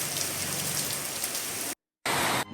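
Heavy rain pours steadily onto a surface during a thunderstorm in Tamil Nadu, a dense continuous hiss with no voices, cut by a brief silence near the end before resuming.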